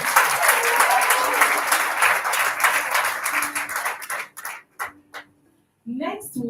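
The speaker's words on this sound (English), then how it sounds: "Another round of applause." Graduation audience at an African science academy ceremony breaks into loud sustained applause that thins out into scattered claps and then stops, followed by a brief voice.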